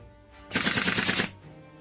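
A sustained burst of rapid automatic gunfire, loud and dense, runs for under a second between quieter stretches of background ambience.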